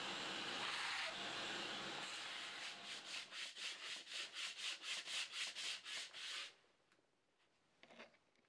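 Close, rhythmic hand sanding: about a dozen quick back-and-forth strokes after a rougher scraping start, then it stops and a faint clatter follows.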